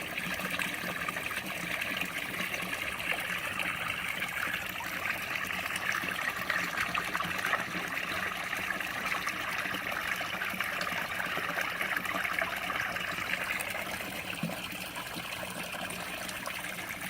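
Water flows steadily into barrels in a backyard aquaponics setup, a continuous close trickling and gushing stream with no talk.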